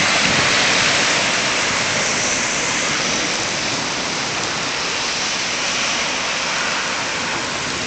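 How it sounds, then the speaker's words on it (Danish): Flood water rushes loudly and steadily over a fully flooded city street, Jagtvej, forming a dense continuous roar with no break. "Jagtvejen står fuldstændig under vand."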